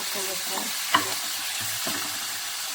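Tomatoes and onions sizzle in a pan as a spoon stirs them, a soft steady frying hiss broken by a couple of scraping strokes and one sharp clink.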